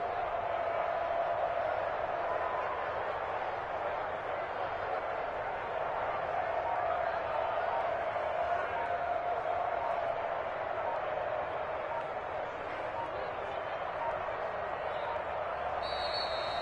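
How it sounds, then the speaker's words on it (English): Home stadium crowd after a Browns–Steelers playoff football game, a steady, distant wash of applause and cheering that holds at an even level throughout with no speech over it. "And the home crowd applauding."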